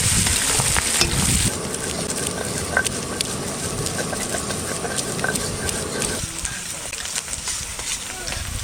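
Onions and green chillies fry in a pan for a desi chicken curry. A dense, steady sizzle carries on close by, its tone shifting as the contents are stirred, with faint voices in the background.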